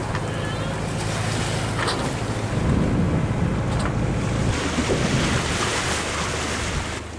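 Ocean waves at Pearl Bay heard from a sailboat, a constant rushing wash with gusts of wind buffeting the microphone and a swell that surges louder partway through.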